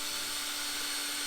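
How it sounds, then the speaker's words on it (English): Power drill running steadily while driving screws to install a CRL window in a Sprinter van, a continuous high-pitched whine held at close range for the whole moment with no talk. "So I'm going to drill this one in."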